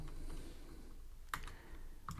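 Keys tapped on a computer keyboard while writing Java code, a few soft scattered clicks with two sharper louder strokes, close and quiet over a low room hum, no voices.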